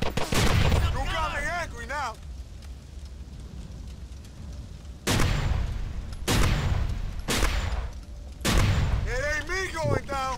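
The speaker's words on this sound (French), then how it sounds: "Apparemment, il y a quelqu'un qui tire." Gunfire in GTA IV comes in several loud bursts of shots with sharp cracks separated by quieter gaps. Someone talks over parts of it while shouting voices in the game are heard between the shots.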